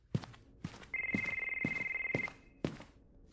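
A telephone rings with one long trilling burst, framed by a few sharp, evenly spaced knocks like footsteps in a quiet room.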